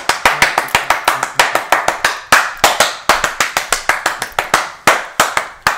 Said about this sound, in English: But before we get into that, clap.